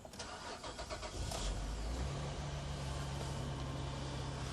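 A Chevrolet Traverse bought as a parts car at a Copart auction cranks briefly and fires up, then settles into a steady idle heard up close, with no talking.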